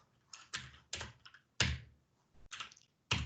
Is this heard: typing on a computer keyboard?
yes